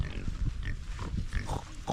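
Pigs on a farm grunt repeatedly and fairly close, short low snorts recurring through steady farmyard background noise, with no talk.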